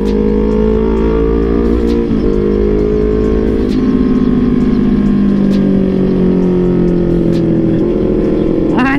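Honda CBR 250 RR motorcycle ridden at night near Bogor, a loud steady engine drone with shifting pitch as revs rise and fall through gears, wind noise throughout, a voice briefly audible.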